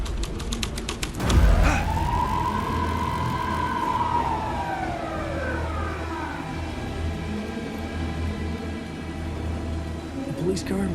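A police car siren in the video game Alan Wake II wails in one long rising and falling sweep, fairly loud over a low ambient rumble, after a brief burst of clicks at the start.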